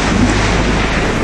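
A heavy thunderstorm with rain, a loud, dense wash of steady rain noise and a low rumble, unbroken and constant for the whole moment.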